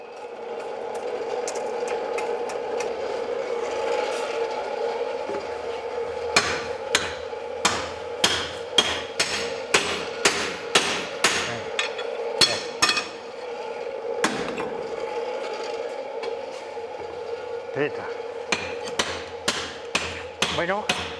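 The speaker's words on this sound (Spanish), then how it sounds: "seguido de golpes certeros hasta darle la forma deseada a la boca de la barrena" Hand forging of a wood auger bit's cutting mouth: a long series of sharp, ringing hammer blows on hot metal, some in quick runs and others spaced, over a steady workshop hum.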